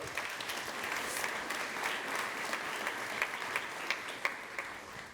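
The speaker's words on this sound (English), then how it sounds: "warm round of applause" A conference audience at a commerce summit breaks into applause, a dense, sustained clapping from a large crowd with a few sharper individual claps standing out toward the end.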